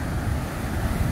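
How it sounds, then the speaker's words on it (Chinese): Big ocean waves surge against the north coast shore, a loud, continuous wash of surf with wind noise, close and without speech. "浪花很大，打过来"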